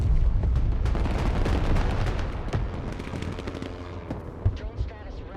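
Gunfire and artillery in the military strategy game Broken Arrow: a dense, continuous barrage of booms and cracking shots, loud and sustained, with a few sharper blasts near the end and speech partly underneath.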